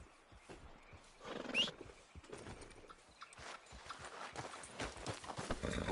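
Horse hooves clip-clop at a walk in Red Dead Redemption 2, a steady uneven patter with a brief whinny-like squeal, moderately close over a faint outdoor backdrop.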